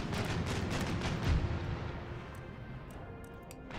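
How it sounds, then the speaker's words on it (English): Naval cannons firing chain shot in the Empire Total War video game: a volley of deep booming reports, heaviest near the start and then decaying into a fading rumble, with a few sharp cracks later on. "Only firing chain shot, because chain dismasts small ships really quite quickly."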